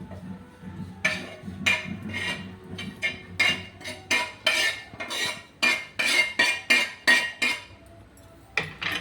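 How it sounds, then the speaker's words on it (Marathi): A metal utensil repeatedly scraping and clinking against a pan while reddish roasted coconut is lifted out, giving a close, rhythmic series of sharp metallic strokes with short pauses. "बघा कसा खोबरं बांधला आहे लालसर ते मी काढून घेत आहे"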